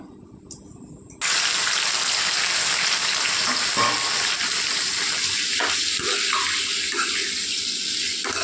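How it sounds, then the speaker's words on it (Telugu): Tomatoes drop into the leftover hot oil in a pan while tomato chutney is cooked. After a second of quiet, a loud, steady sizzle starts abruptly, with faint stirring clatter beneath the crackle. "టమాటాలు వేపుకోవాలండి ఉన్న నూనెలో"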